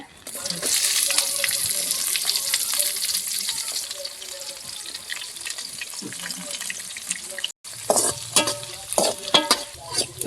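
Onions with curry leaves, mustard seeds and cumin frying in oil in a pan for a spinach (palak) dish, a steady close sizzle with stirring scrapes throughout, briefly cut off then resuming with clinks and utensil knocks.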